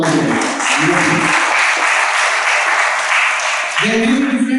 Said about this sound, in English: One round of applause to all of them.